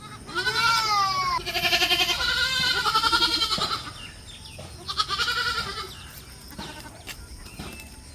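Two goat kids about three and a half months old, one male and one female, bleat in repeated long wavering cries close by, with brief quieter gaps between calls.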